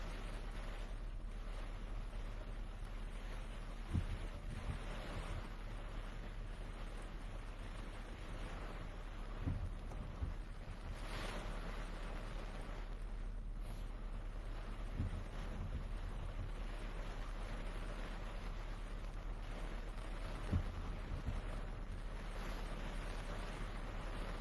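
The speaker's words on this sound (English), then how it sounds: "Oh, I can see how hard it's raining too." Heavy rain and gusting wind during a storm chase roar as a steady, dense wash, with occasional soft thumps, and nobody speaks.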